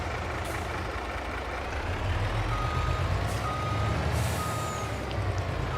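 A truck in Farming Simulator 22 backs up toward a seeder, its reversing alarm beeping steadily over a loud, constant diesel engine drone, with no talk.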